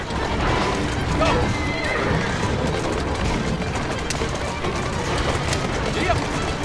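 Horses in Assassin's Creed Syndicate whinny and clatter along at a gallop, hauling a carriage through a dense, noisy game scene, with voices and commotion mixed in.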